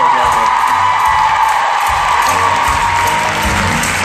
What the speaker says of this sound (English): a little round of applause for Loudon Swain,